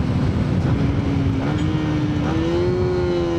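A Yamaha Sniper 155 VVA motorcycle engine runs hard with a steady, loud drone, its pitch climbing gradually as it revs through the gears during a clutch test, with continuous wind and road rumble underneath.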